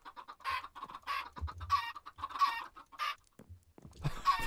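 Several Minecraft chickens cluck in quick, repeated bursts, close and fairly clear, with brief pauses between clusters of calls.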